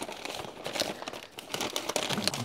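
Light metal foil lining from a Canadian IMP military ration pack crinkles and rustles continuously up close at moderate level, with no talking.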